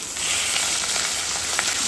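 A fish head, rohu, sizzles steadily in a hot pan, a continuous bright frying hiss holding even and close throughout with faint crackles rising within it.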